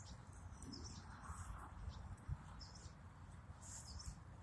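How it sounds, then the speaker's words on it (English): Birds sing outdoors in a garden, giving faint, scattered high chirps and short tweets over a low, steady background hum. No one speaks. "I'm telling y'all, that bird is singing to me."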